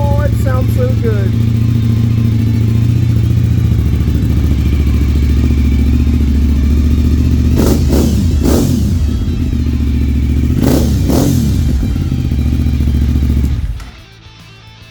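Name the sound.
Suzuki 2002 TL1000R motorcycle engine with Yoshimura pipes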